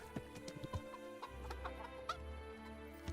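Chickens in the video game Kingdom Come: Deliverance cluck in short, irregular bursts against a low steady hum, fairly close and quiet, with no voices.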